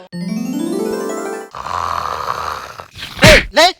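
Loud, rasping snoring in a TV comedy sketch: a drawn-out droning breath sliding upward, then a rough rattling exhale, ending with two sharp squeaky chirps.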